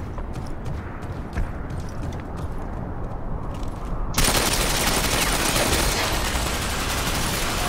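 Rapid bursts of gunfire crackle over a noisy background in the video game Tom Clancy's Ghost Recon Phantoms, then a loud, sustained roar of noise takes over.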